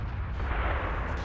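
A heavy artillery shot from a Bat.-Châtillon 155 58 in World of Tanks, a dense, loud, sustained low boom filling the whole moment with no distinct attack or decay.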